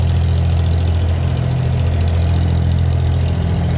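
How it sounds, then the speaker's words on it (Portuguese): A cargo boat engine on a canal in Dubai rumbles loud and close with a steady low drone and knocking, unchanging throughout, with no talk over it. "Barco de carga"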